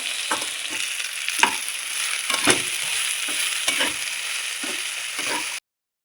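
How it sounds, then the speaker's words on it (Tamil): Okra (lady's finger) sautés in extra oil in a pan, a continuous close sizzle with scraping stirs and soft clatters, no voices, ending abruptly. "வெண்டைக்காய் நல்லா வதங்கணும்"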